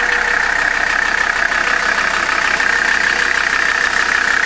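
A Mercedes 300D diesel engine idles steadily after a cylinder head replacement, a continuous even rumble with a bright mid-range drone, close and fairly loud throughout with no talk.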